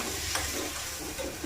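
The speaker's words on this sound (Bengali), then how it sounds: "লবণ দেবো, হলুদের গুঁড়ো, লঙ্কার গুঁড়ো, কাশ্মীরি লঙ্কা, আর জিরে আর ধনের গুঁড়ো দিয়ে একটুখানি ভালো করে কষাতে হবে।" Salt, turmeric, chili powder, Kashmiri chili, cumin and coriander powder frying in a pan, a brief steady close sizzle and hiss with a faint stir.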